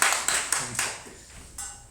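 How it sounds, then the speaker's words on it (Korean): A short round of clapping from people at a church worship service: a handful of sharp, fairly close claps over about two seconds that ease off toward the end. "박수 한번 일단 공식적으로"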